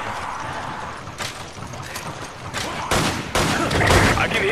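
Gunfire in the video game Resident Evil 5 during a Versus match: scattered, fairly faint shots and bursts over steady game noise, growing louder and denser near the end.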